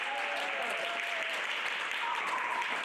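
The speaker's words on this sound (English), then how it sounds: "You guys give yourself a round of applause for even coming." Applause from a business conference audience, steady dense clapping filling the room for a few seconds, with faint voices mixed in.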